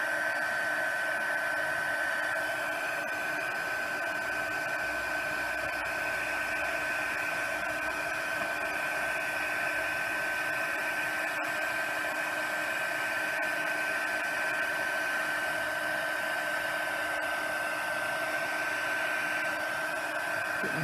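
Heat gun blowing a steady, loud whooshing hiss to heat-set embossing on a card for a vine design, continuous and close with no break.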